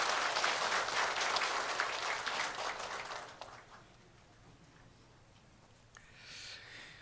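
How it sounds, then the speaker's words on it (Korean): A church congregation claps to welcome a newcomer at a worship service, a burst of moderately loud applause for about three seconds that fades into quiet room tone, with a few light sounds near the end. "박수로 환영하겠습니다"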